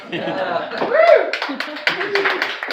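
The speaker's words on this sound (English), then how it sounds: "I never got applause before" Scattered audience applause from a small crowd, clapping mixed with chuckles and voices talking over it, close and lively.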